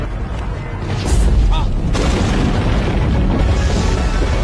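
A deep, powerful explosion of the Moon in a film booms and rolls into a sustained, rumbling roar that fills the space, loud and close.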